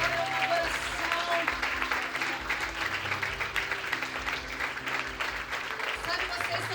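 Church congregation at a nighttime worship camp session applauding, a continuous broad clapping wash over a low sustained musical drone, with voices mingling in the background.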